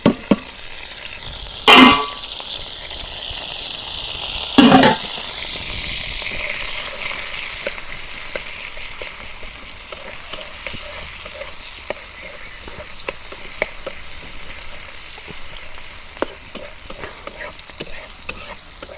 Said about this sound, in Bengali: পেঁয়াজ কুচি দিয়ে দিই।